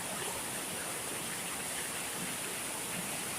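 Steady rain pours down outdoors in a dense, even hiss that holds constant throughout with no voices over it.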